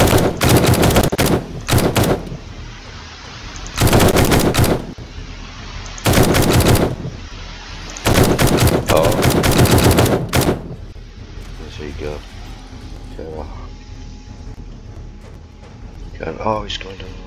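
Automatic gunfire from the video game 7 Days to Die during a horde night comes in four loud, rapid bursts separated by short pauses, with talking in the quieter stretches.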